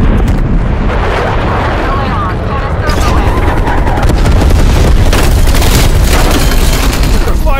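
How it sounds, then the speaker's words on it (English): A napalm strike in Call of Duty: Black Ops Cold War sets off a loud, sustained roaring blast with dense crackling booms and gunfire mixed in, while a voice talks over it. "napalm on my target."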